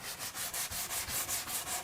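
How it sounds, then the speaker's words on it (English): Steady rhythmic scraping of 60-grit sandpaper rubbed back and forth over the wooden edge of a dresser, about a dozen even strokes, close and moderately loud. "Once I finished sanding the edge with the 60"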